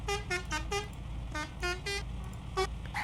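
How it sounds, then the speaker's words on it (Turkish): A vehicle horn from a mobile bus and truck driving game, TDZ Pro, blares in a series of short, tonal honks, some quick pairs and some longer blasts, loud and up close over a low engine hum. "Buradan kornalar."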